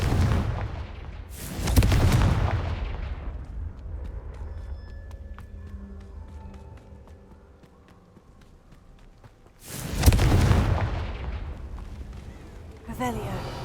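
Two heavy fire-spell blasts from the Hogwarts Legacy video game, each a booming burst followed by a rumbling decay, set against a quieter stretch of ambient game sound between them.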